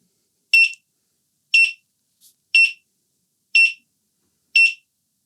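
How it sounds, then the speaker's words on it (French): A Begode RS HT electric unicycle emits five evenly spaced, sharp high-pitched beeps during calibration, about one second apart, clear and isolated against silence. "Donc j'attends la série de 5 bips"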